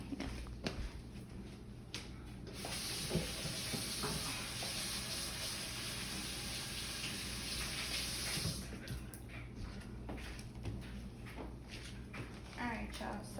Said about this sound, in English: so wash my hands